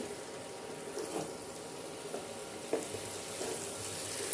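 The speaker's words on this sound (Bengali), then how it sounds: "ভালো করে আস্তে করে নেড়ে নিলাম" Mixed vegetables softening in their own released water in a pan, stirred gently for a Bengali vegetarian dish; soft sizzling and wet scraping with a few light spoon clicks, faint and steady, no talking.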